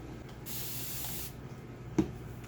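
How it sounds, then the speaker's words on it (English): A water spray bottle used for thinning chalk paste gives one short, close hissing squirt, followed by a faint click. "Our new water bottle gives just the right amount of spray in one squirt for thinning down your paste"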